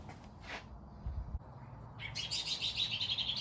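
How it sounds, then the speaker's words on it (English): Birds chirp outdoors, breaking into a dense run of high twittering calls after a quieter start, fairly close and unmasked. "I'm not sure if the birds are agreeing with me or if they disagree."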